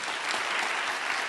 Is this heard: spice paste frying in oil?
no